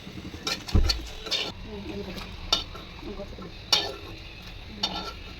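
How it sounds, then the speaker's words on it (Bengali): Chilies fry in a pan for a garlic bharta, with a soft sizzle under a few sharp metal clinks and scrapes as a spatula stirs them at uneven intervals. "এখন যে মরিচগুলো ভাজবো।"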